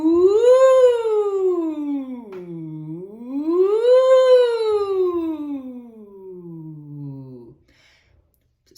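A singer's voice slides smoothly up and down in two long, rising-and-falling sweeps, imitating a siren as a vocal warm-up, clear and close, then fades to silence.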